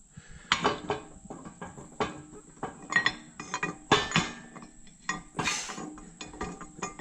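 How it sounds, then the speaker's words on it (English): Metal clinks and ratchety clatter ring out as a socket is worked out of a 36mm hub, with irregular sharp metallic knocks and scrapes at close range and no talking. "let's take the socket out of here"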